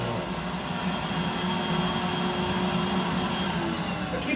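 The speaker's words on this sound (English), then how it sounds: "we just vacuumed Kirby, and now we vacuumed Rainbow over the same section" A Rainbow vacuum cleaner runs over carpet with a loud, steady roaring whine that stays constant and close throughout.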